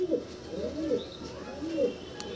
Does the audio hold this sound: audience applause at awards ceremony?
no